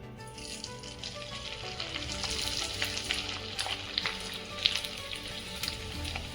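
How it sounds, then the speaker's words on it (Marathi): Continuous bubbling sizzle of rice kurdai frying in hot oil in a kadhai, crackling steadily with sharper pops, close and fairly loud, no talking. "मी आता तुम्हाला याच्यामध्ये कुरडई टाकून तळून दाखवते"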